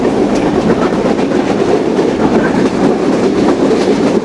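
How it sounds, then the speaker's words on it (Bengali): Kapotaksha Express, running from Khulna to Rajshahi, rolls through Bheramara railway station in Kushtia: a loud, steady rumble of wheels and carriages with a faint clickety-clack throughout, heard close from aboard, with no voices. "আমরা এই মুহূর্তে কুষ্টিয়ার ভেড়ামারা রেলওয়ে স্টেশন পেরিয়ে যাচ্ছি।"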